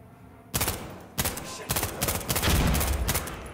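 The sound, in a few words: gunfire in the video game Insurgency Sandstorm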